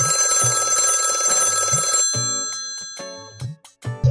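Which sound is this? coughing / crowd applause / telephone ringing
telephone ringing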